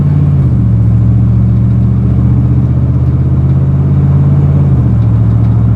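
A car engine rumbling past on a street, a loud, close, low droning hum whose pitch drops slightly as it goes by, with no talking.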